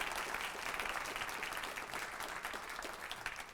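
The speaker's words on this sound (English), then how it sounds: "Please give a warm round of applause to the Virginia Beach Sheriff's Honor Guard." A crowd at a human rights awards ceremony gives a steady, dense round of applause for a sheriff's honor guard after a colors presentation, sustained and even throughout with no voices.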